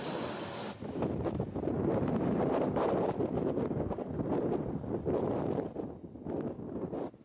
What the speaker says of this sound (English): the wind outside is blowing and it's casting shadows everywhere